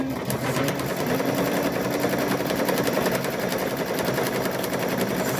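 A sewing machine runs steadily while quilting a small mug rug, a continuous rapid needle rattle close up and fairly loud throughout.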